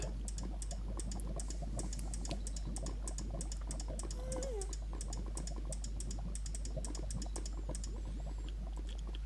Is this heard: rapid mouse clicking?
yes